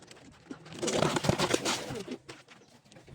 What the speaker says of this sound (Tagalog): Tingnan natin ang ating kalapati.